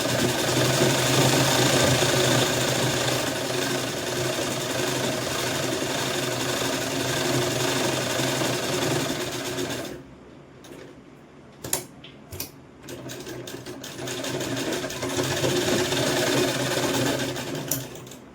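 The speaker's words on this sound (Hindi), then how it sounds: "अब इसके हम 3 साइड पे पक्की सिलाई लगा लेंगे" A sewing machine runs a long continuous seam on a kurti, its steady close mechanical whir lasting about ten seconds, then stops for handling clicks and brief restarts before stitching steadily again.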